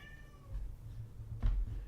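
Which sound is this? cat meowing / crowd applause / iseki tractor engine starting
cat meowing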